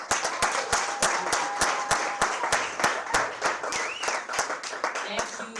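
An audience at a Poetry Africa slam competition applauds after a poetry performance, with steady, fairly dense clapping running the whole time and a few voices and cheers mixed in.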